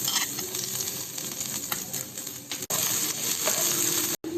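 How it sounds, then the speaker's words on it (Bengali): Chopped garlic sizzling in hot mustard oil in a pan, a loud, steady crackling fry close up, with brief stirring clatters and two sharp cutoffs. "গরম হয়ে যাওয়ার পর আমি রসুন কুচিটা দিয়ে দিলাম"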